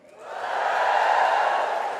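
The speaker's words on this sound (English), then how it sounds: "just give us a cheer if you have read or seen The Handmaid's Tale" Studio audience at a live festival talk cheers on cue, a broad swelling wall of voices and whoops that rises within half a second and holds steady and loud, with no one talking over it.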